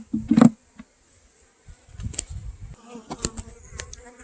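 Saskatraz honey bees on hive frames from a nuc buzz in irregular close bursts, with a loud pass near the start, a lull, then scattered overlapping buzzing and handling noises.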